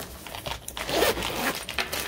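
A rose gold zipper slides open on a Delium Tools case, a short, close scratchy zip lasting about two seconds, heard on its own.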